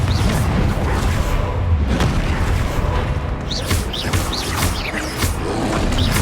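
Repeated booming explosions from Confringo and Bombarda spells in the video game Hogwarts Legacy, loud and continuous with sharp bursts and whooshing magical effects layered over a dense rumbling background.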